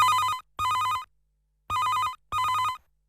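A telephone rings for a call-in on an FM radio show: two rapid double rings, loud and electronic, separated by a short silence.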